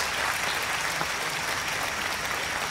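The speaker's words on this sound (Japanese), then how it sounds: "ご登壇くださっている若者の皆さんにも改めて皆さん拍手を送りください" Outdoor crowd applause at a rally on retrial law reform held at an open-air amphitheatre, honouring the young speakers on stage: a continuous, dense roar of many hands clapping at steady loudness throughout, with no speech.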